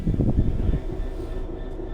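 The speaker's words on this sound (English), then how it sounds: "Moving a train, which is easy, if you know how to." A train in the Train Sim World 3 video game rolls along with a steady, fairly loud low rumble and mechanical drone that thins out slightly toward the end, with no voices.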